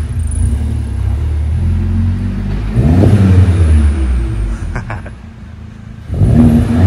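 A car engine runs after a full build with a deep, mellow rumble at idle, then gives a couple of revs that swell louder before it settles back to a low, steady hum.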